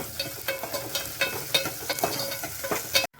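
Onions and green chillies fry with cumin in a pan, a close continuous sizzle broken by rhythmic stirring clicks, ending abruptly.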